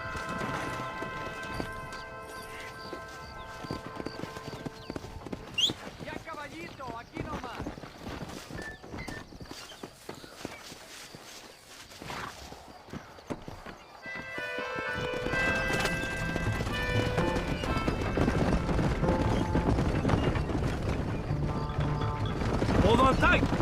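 Rhythmic clip-clop of horse hooves at a gallop in the video game Red Dead Redemption, with a horse whinnying amid game music and effects, under occasional talk.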